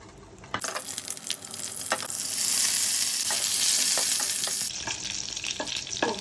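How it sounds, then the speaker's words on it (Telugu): Mustard seeds, cumin and two chillies crackle and pop in hot oil, the sizzle swelling into a loud, hissing burst midway before settling, with a few sharp clinks of stirring. "పోపేసేసుకొని ఆవాలు జీలకర్ర రెండు మిరపకాయలు"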